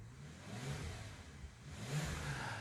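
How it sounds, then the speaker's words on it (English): Bentley Supersports 6.0 W12 engine revved lightly, a deep throaty rise and fall of two gentle blips, heard close and fairly quiet with no talking. "let's try and just capture a bit of that audible magic as we just rev it slightly"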